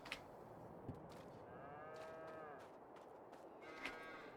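Cow mooing in the farming game Farming Simulator 22, a single long drawn-out low moo in the middle, faint and distant over quiet ambient farm sounds, with no talking.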